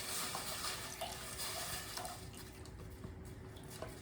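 Water pours steadily into a soup pot for cabbage soup, a continuous hissing splash that stays fairly loud throughout with no talk.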